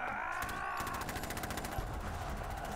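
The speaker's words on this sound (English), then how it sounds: "Shooting!" Rapid automatic gunfire from Metal Gear Solid 2, a fast rattling burst of shots layered over a constant game soundtrack, moderately quiet and steady through the short stretch.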